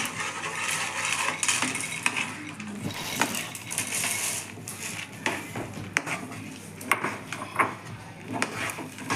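Peanuts being stirred into hot jaggery syrup in a pan for chikki, a busy run of scraping, clinking and rattling from the spoon and nuts, fairly close, with a little talk.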